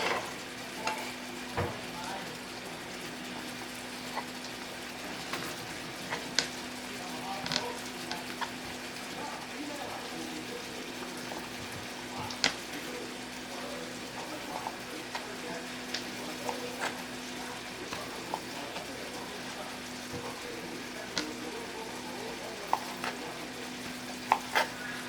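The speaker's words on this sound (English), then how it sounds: "you can go ahead and get that searing away in another pot as well" Sausage sears in a pot as part of a keto jambalaya, giving a steady low sizzle with scattered clicks and scrapes from stirring throughout, and a constant hum underneath.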